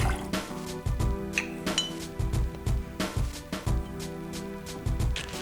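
Vodka poured into a metal jigger for a clarified grandmother's punch: a run of clinks and small splashing, liquid pouring sounds with repeated light knocks of glass and metal, close and fairly loud, no talking.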